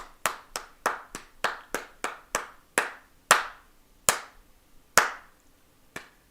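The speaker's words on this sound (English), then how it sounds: "Just keep clapping. Keep clapping." An audience claps at a chat show, a run of about a dozen distinct, loud, close claps whose rhythm gradually slows and spreads out, with no talk over it.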